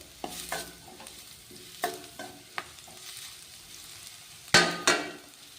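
Vegetables for restaurant-style vegetable noodles stir-frying in a pan: a quiet, steady sizzle broken by a series of sharp, close scraping and clanking strokes of a spatula, with two louder clatters near the end.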